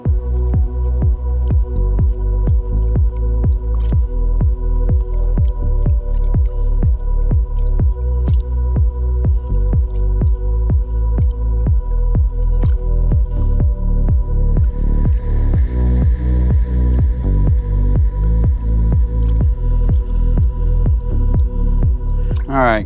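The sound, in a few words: panning pay dirt in water for gold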